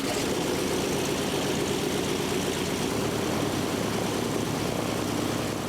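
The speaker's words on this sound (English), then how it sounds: "to listen to the sound of the engines as starting" A Corsair fighter plane's propeller engine roars loudly and continuously, a steady, dense rumble with no pauses or voices.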